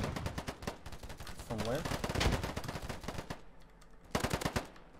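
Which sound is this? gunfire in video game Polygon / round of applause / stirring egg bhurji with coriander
gunfire in video game Polygon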